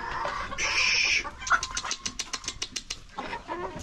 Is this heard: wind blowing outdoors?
no